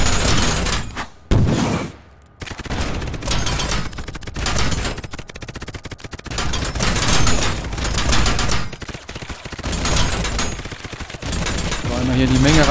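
Rapid gunfire fills the VR shooter BeachHead 2020, loud bursts of machine-gun fire and shots running almost continuously with brief gaps, with someone talking over parts of it.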